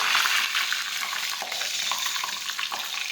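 Curry leaves dropped into hot oil with mustard seeds, cumin, cloves and chilli while tempering dal, giving a bright crackling sizzle that runs steadily and close throughout.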